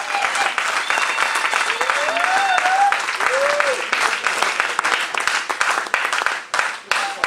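Church congregation clapping and cheering during a sermon, a continuous wash of applause that stays loud and then thins out near the end, with voices calling out among the claps.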